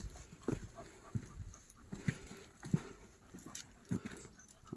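A dog on the Compostela pilgrimage trail pants and gives several faint, short whimpers at irregular intervals. The sounds are quiet and nearby, over soft outdoor background noise, with no speech.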